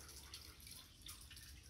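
Water dripping and trickling from a leaky tap, heard as a faint, steady wet hiss with soft irregular drops and no voices.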